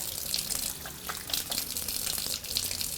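Tap water runs steadily as hands are scrubbed with soap and a piece of metal to remove kitchen odors, a close, continuous splashing hiss at the sink with no talk.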